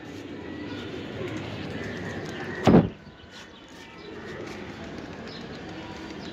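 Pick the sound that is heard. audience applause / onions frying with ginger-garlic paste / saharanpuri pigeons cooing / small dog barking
saharanpuri pigeons cooing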